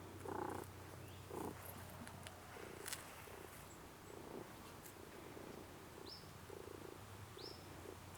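A pet cat on a Bavarian farm purrs softly close by during belly rubs, a low steady rumble in quiet surroundings with a few faint chirps in the background.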